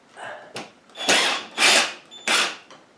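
A power drill drives screws into sagging ceiling tiles in short separate bursts, about five whirring runs of under half a second each, close by, with quiet pauses between them.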